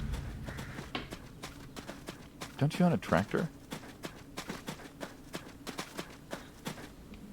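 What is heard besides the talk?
horse hooves clip-clopping in the video game ADIOS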